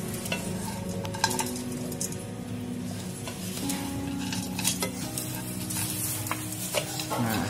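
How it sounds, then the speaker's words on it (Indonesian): A utensil stirs seasoning through fried potato chips in a pan over low heat, with a steady scraping and rustling alongside a soft continuous sizzle and occasional metallic clinks against the pan. "ini kita aduk aja terus supaya semuanya menjadi merata"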